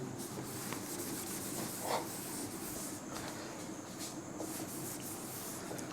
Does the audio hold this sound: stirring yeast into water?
no